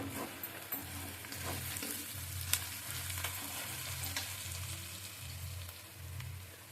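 Spiced chicken fries in a pan as the spinach chicken dish is cooked, giving a soft, steady sizzle with rhythmic stirring and scraping throughout and no speech.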